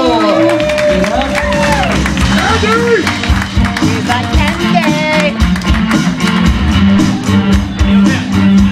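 Crowd applause and cheers for a stand-up comedian taking the stage at a comedy show, a loud continuous wash of clapping with whoops, mixed with music and voices across the whole stretch.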